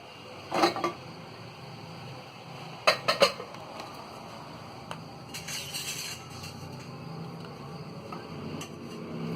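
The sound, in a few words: opening pressure cooker after cooking mutton and lentils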